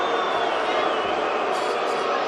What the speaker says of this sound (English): Crowd getting a little bit testy here